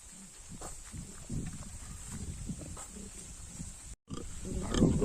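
Pigs and piglets, including a sow being sold alongside her litter, grunt in low, irregular bursts at close range over a steady farmyard background, with a brief dropout near the end followed by louder snuffling.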